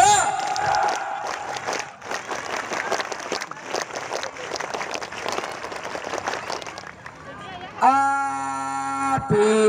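A crowd at a Scout campfire gathering at a large campsite in Karawang, West Java, claps the Scout clap twice in a burst of rhythmic, lively clapping mixed with cheers and voices, followed by singing.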